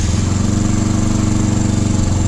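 A 2019 Benelli TNT 135 motorcycle's small engine idles steadily just after a cold start, a close, loud, even low-pitched putter with a fast regular pulse and no talk.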